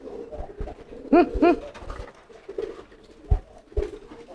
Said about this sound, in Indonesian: kita buktikan dengan merpati lain atau merpati yang sama giring, apakah bunyi seperti itu